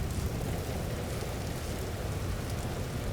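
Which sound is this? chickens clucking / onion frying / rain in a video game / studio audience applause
rain in a video game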